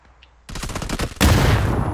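Automatic gunfire rattles in PUBG, a rapid burst of close shots followed by a louder, harsher blast of sound, all within a couple of seconds and without talk.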